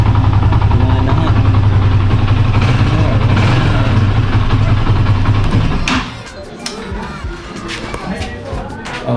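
A Rusi Classic 250 motorcycle engine, fitted with a TMX starter, runs loud and steady with a low rumble for about six seconds, then drops to a quieter, uneven idle with scattered clicks.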